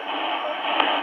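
Steady hiss of band noise from the receiver of a homebuilt 40m/20m amateur radio transceiver, a dense unbroken wash with one faint click near the end and no voices.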